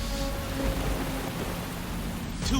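Torrential rain pours down on a fragile hillside in La Paz, Bolivia, a steady dense wash of noise that holds constant throughout, with no voices.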